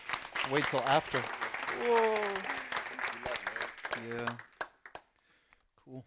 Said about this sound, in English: you can give a clap for him and enjoy the lecture